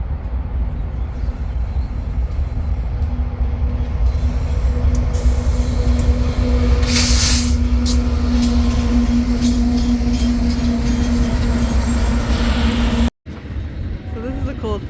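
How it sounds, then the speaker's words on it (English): A train rolls past along the Pacific Crest Trail between Campo and Kennedy Meadows South, a loud, close, continuous rumble with a steady droning hum that holds for about thirteen seconds before cutting off abruptly. "So this is a cool train."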